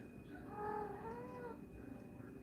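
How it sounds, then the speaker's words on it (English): A pet cat gives a soft, drawn-out meow that wavers in pitch, faint and close, under a quiet background hum. "This is my cat."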